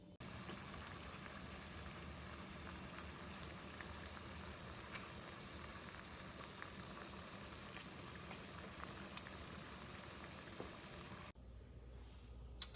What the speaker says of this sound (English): we're going to go ahead and put the green beans in the pot of boiling water